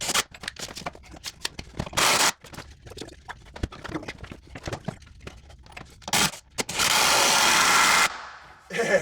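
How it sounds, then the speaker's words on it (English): Screws four inches long are driven into a wooden plate in a shower niche rebuild, giving a loud, bursty power-tool whir in stop-start pulls with a longer sustained run near the end. "I'm going to run some 4-inch screws"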